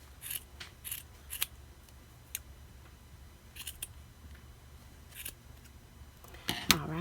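Scissors snip through yarn while trimming a pom-pom for a handmade ornament, giving a series of sharp separate clicks spread over several seconds. The cuts sound close and crisp over a quiet background, ending in a louder rustle.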